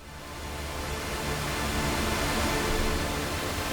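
A synthesizer pad patch built from waterfall recordings plays as a steady, dense wash of broadband noise that swells slightly over the first second and then holds evenly, with no voices.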